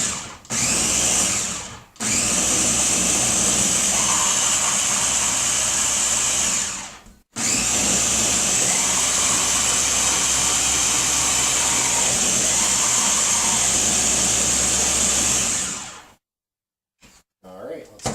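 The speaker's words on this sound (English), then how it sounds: "Now when I get done blending, I like to take with this Ninja blender to make sure I get everything." A Ninja blender blending green juice with cucumber: a loud, steady high whine of the motor running in three bursts separated by brief stops, then falling quiet.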